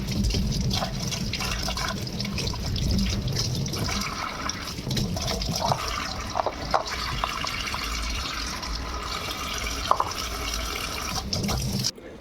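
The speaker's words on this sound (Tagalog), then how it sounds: "sinunod ko na pong hugasan yung dalawang klaseng gulay na binili ko" Okra and pechay being washed in water in a home kitchen, with steady running and splashing water from a tap filling a basin, continuous and close throughout with occasional small clinks.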